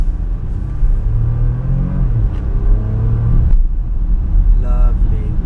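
Porsche Macan Turbo in Sport Plus mode accelerating out of a hairpin, a steady low engine rumble with rising pitch sweeps through quick gear changes, heard from inside the car.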